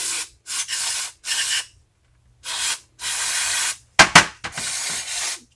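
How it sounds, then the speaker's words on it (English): Carburetor cleaner sprays onto a lawn mower carburetor in a series of close, hissing bursts, some short and some held for about a second, separated by brief silences and a couple of clicks. "spray it all down"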